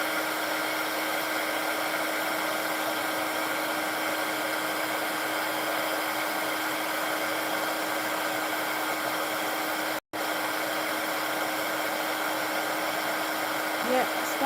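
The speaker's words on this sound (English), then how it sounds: "I'm going to bring back in my heat tool" A heat tool blows hot air onto a cascading Christmas card, giving a steady, loud, close whirring hiss that runs unbroken for about fourteen seconds apart from one momentary cut-out near the end, with no voices.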